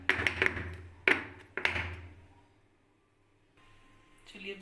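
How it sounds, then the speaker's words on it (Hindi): Several sharp taps of a cake tin filled with eggless chocolate cake batter land in quick succession, a couple more follow after short pauses, then quiet before faint rustling at the end. "इस तरह से टैप कर लेंगे एयर बबल्स निकलते हैं"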